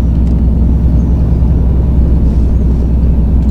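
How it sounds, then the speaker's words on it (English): A 426 HEMI V8 car on a first hard pull after a rebuild, heard as a loud, heavy, continuous engine roar and rumble close up, with no voices. "All right, I'm gonna do one of the first pulls on the new motor."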